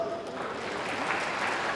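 Steady clapping from an audience at a Narayan Reiki satsang gathering in Visakhapatnam, a dense continuous patter of many hands filling the room.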